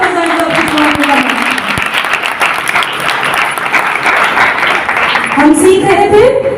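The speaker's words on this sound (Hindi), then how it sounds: "यीशु के लिए जोरदार तालियां बजाएं।" A church congregation gives loud, sustained applause for Jesus at a youth revival gathering, dense clapping filling the room at close range while a voice carries on over it.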